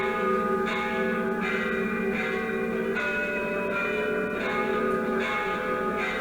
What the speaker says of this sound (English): I wonder who these bells are for.